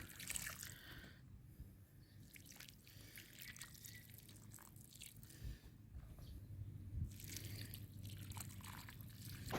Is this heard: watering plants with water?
yes